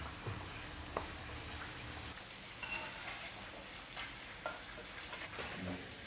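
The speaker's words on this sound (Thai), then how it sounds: "เพิ่นทอดปลา เมนูง่ายๆ" Fish frying in a hot pan in a home kitchen, a steady low sizzle and crackle with occasional small pops and clinks of stirring, fairly quiet and without talk.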